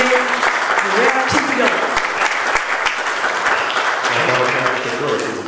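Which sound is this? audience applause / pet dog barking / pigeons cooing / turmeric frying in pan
audience applause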